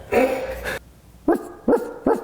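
A large dog barks: one longer, drawn-out bark first, then after a short pause three short, sharp barks in quick succession, close and clear with no talking.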